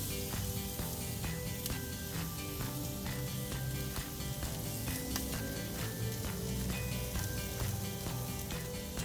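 Beef, butter-aged or dry-aged, grilling on low heat on a grate set well above the charcoal, giving a steady, dense sizzle and crackle that runs without pause, with no voices.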